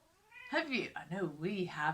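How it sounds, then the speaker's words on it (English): Pet cat meowing at close range, a few drawn-out rising and falling meows in quick succession, mixed with a person talking. "My cat's just come to say hello, so you might hear him meowing in a minute."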